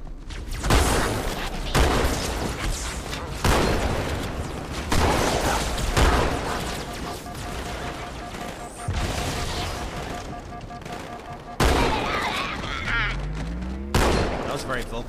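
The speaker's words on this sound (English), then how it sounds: "The battle rifle does pack a lot of punch." Bursts of battle rifle gunfire in the Halo 2 video game, repeated loud sharp volleys at irregular intervals, with other game sounds and effects between them.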